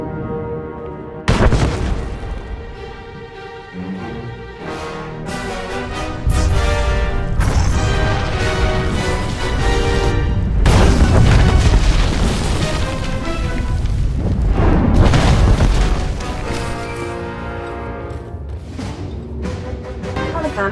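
Bomb blast in the Star Wars: The Old Republic game, a sudden loud boom followed by extended rumbling, crashing debris and layered explosive bursts over a dramatic musical score.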